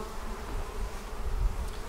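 Honey bees swarming out at a lower hive entrance make a dense, steady buzzing hum of many wings, close and continuous with no one speaking.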